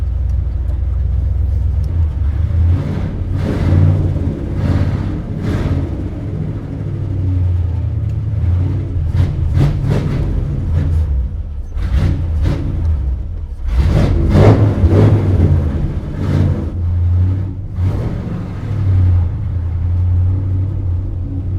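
A 1957 Chevy wagon engine warms up with the choke unhooked, a deep, loud idle rumble broken by repeated short revs throughout, close by and with no talk.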